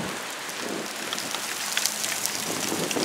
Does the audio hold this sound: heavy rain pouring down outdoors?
yes